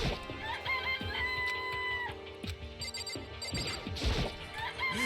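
Chickens cluck and a rooster crows in a coop in the Danganronpa video game, layered over game music with a few sharp clatters.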